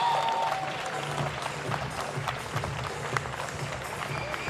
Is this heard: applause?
yes